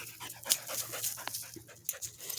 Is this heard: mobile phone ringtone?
no